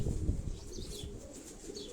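Pigeons in a breeding loft, soft cooing and a brief flutter of wings close by with some low rustling, faint overall.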